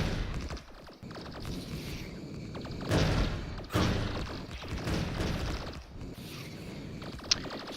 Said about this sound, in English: flamethrowers do a really good job of thinning them all out, and then the lasers and some of the gun turrets